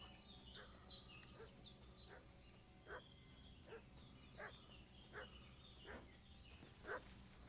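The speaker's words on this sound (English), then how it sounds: "What's that dog making such a fuss about?" Dog barking in a medieval adventure video game, a series of sharp, moderately distant barks repeating every second or so over a low ambient bed, with faint high chirps early on.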